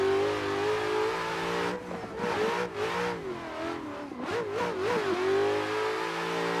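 An RTR race car engine in a racing video game revs hard and steadily, with loud, close engine drone rising and falling through several quick gear shifts and throttle lifts, with no talk.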